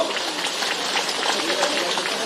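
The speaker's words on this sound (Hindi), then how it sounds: "थोड़ा तालियों की गड़गड़ाहट के साथ में अभिनंदन हो" An audience applauds in a continuous, even wash of clapping at a gathering of anganwadi workers in Madhya Pradesh, sustained without any clear peaks for a couple of seconds.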